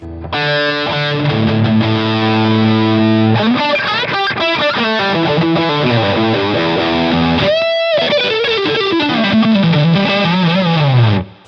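Heavily distorted electric guitar through an LPD Pedals distortion pedal, voice control raising the mids, plays sustained chords and then a wandering melodic line, loud and saturated, with no voices.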